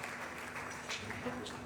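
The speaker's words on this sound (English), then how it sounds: "please let me give her a round of applause" Audience in a conference hall at a trainers' summit in Benin claps, a dense steady patter of applause, fairly close, with voices mixed in.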